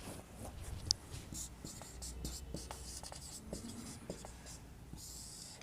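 Numbers written by hand with a pen on paper: faint, close scratching and tapping strokes in quick, irregular bursts, with a little quiet speech in the background.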